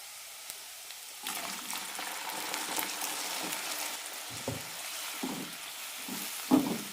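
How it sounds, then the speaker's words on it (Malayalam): Vegetables tipped into a pan of sautéed onions for a vegetable kurma, giving a steady broadband frying sizzle with scattered stirring knocks and scrapes, close and moderately loud, no talking. "ഇനി ഇതിലേക്ക് പച്ചക്കറി ഇടാം"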